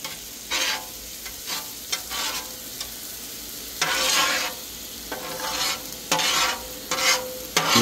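Hamburger patties fry on a hot griddle, a steady sizzle broken by louder bursts of spattering and scraping as the meat is flipped and moved, close and with no talking.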